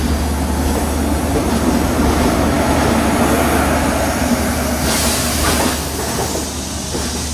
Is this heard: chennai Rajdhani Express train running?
yes